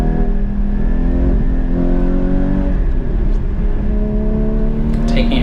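A Porsche GT4 981 engine on light throttle during an autocross run, a loud steady mechanical drone with rising harmonic tones, heard close from inside the car as someone talks over it.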